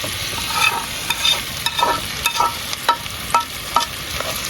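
Ackee sizzles in a hot pan while a utensil stirs and scrapes in irregular strokes, close and clear, with no one speaking.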